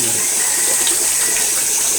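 Water gushes steadily from a tap, a dense continuous hiss with no pauses, close and fairly loud.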